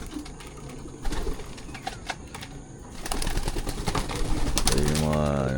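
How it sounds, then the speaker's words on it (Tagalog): Young pigeons in a loft make soft, repeated cooing calls with some rustling and wing movement nearby, ending in a louder, drawn-out coo up close. "Yan po yung mga young bird natin."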